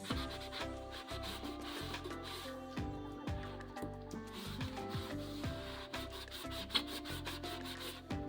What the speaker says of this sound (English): You can easily clean it with a soft sponge and dishwashing liquid.